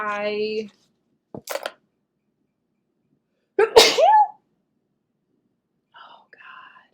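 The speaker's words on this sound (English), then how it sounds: "It's like the worst thing in the world when you sneeze now" A single sharp sneeze bursts out mid-clip, with a brief whisper-like voice before it and faint rustling sounds around, otherwise quiet.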